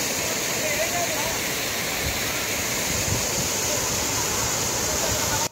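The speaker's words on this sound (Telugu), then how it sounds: "సీజన్‌లో ఎళ్ళాం కాబట్టి ఈ వాటర్ అయితే ఉన్నాయి వాటర్ ఫాల్స్‌లో" A waterfall in the hills about 35 km from Gachibowli, Hyderabad, roars as a dense, constant rush of falling water, loud and close, steady throughout before cutting off abruptly at the end.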